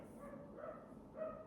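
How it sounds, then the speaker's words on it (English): Distant neighbours' dogs give a few faint, yappy barks, two brief bursts against low background hiss. "Why do people let the dogs yap and stuff like that?"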